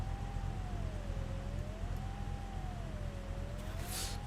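Police car siren in The Long Drive video game, a steady wailing tone rising and falling in slow sweeps over a constant engine and road rumble, loud and continuous throughout.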